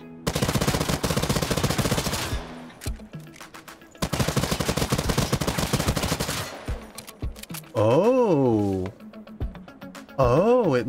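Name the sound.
Mazikin gun firing in video game Hawked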